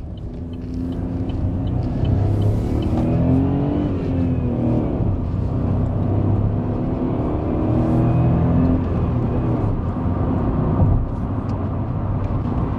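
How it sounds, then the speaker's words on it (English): A Vauxhall Viva's small engine revs and accelerates from close by, a low droning rumble that rises in pitch through several gear changes up to 50 mph. "let's test out this mighty engine"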